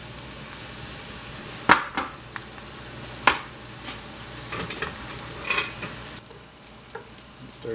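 Dandelions fry in a pan with a steady close sizzle and crackle, broken by a few sharp clinks and scrapes as they are stirred and turned; no voices.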